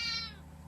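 A cat in a Philippine village gives a single short, faint meow that fades quickly against a low background hum.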